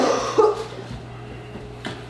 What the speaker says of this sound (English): Oh, I just coughed all over this cream cheese.